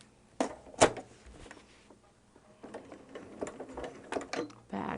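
Sewing machine back stitching through bulky holiday fabric, heard as short bursts of needle clatter separated by pauses and handling noise, fairly close.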